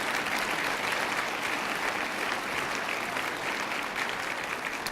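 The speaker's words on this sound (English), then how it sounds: "Big round of applause for everybody." A conference plenary audience gives a sustained round of applause, dense and steady clapping filling the room at an even, loud level throughout with no talk over it.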